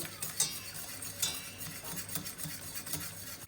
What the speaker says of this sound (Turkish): Meyanesini bir taraftan verirken bir taraftan da karıştıracağız